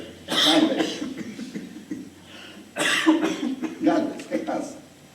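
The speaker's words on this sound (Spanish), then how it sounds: "El doctor me dijo que la tos se me iba a quitar en unos cuantos días" Someone coughs in a couple of harsh bursts, close and fairly loud, with a throaty, slightly laughing quality and little else around it.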